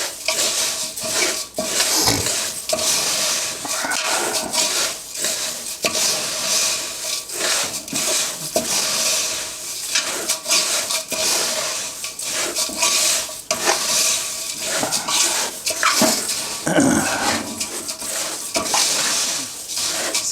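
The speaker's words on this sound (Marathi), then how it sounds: "ह्याला चांगलं छान हलवून घ्या" A roasted poha chivda mixture with spices is stirred and tossed in a metal pan, giving continuous scraping, rattling and rubbing with occasional knocks, close and fairly loud throughout, with no talking.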